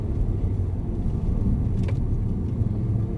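A Mercedes-Benz car on a driving-experience track gives a steady low engine and road rumble, sustained and fairly loud throughout with no clear change in pitch, and no voices.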